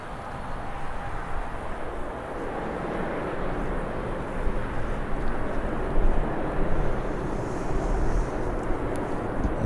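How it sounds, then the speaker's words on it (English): Ryanair airliner on approach to Birmingham airport, a steady broad engine roar that holds at a fairly loud level throughout with no voices. "Here comes our Ryanair."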